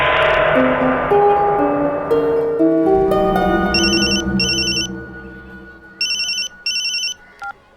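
A telephone rings after a dramatic musical sting fades, with two bursts of electronic trilling ring, a pause, then two more, loud and close with no talking.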